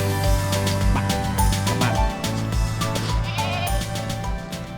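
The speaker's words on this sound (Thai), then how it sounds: "อันนี้เขาเรียกแพะ" Goats bleat repeatedly at a farm pen, loud and close, several overlapping wavering cries in a steady run over a busy background with no talk.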